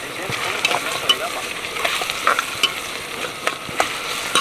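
Onions fry in hot oil in a pan at a night campsite, with a steady, moderately loud sizzle and scattered scraping clicks of stirring.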